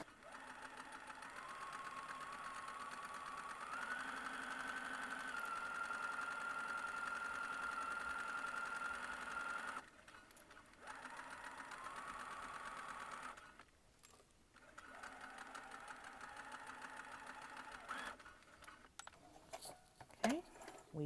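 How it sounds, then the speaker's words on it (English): A home sewing machine runs steadily while sewing a McCall's 8241 garment, a close, even motor hum and needle patter that stops briefly a few times and restarts, ending with short clicks. "go ahead and continue to sew"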